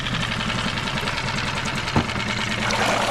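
A repaired outboard boat motor idles steadily, a close, even engine drone with a faint rhythmic knock and one brief clank partway through.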